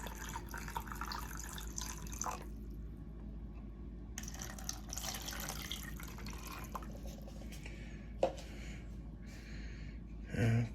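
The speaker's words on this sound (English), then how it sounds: "So I'm going to give them water." Water is poured into containers holding fig cuttings set to root, an intermittent trickling and splashing over about ten seconds with short pauses, a few drips and a knock near the end, no talk.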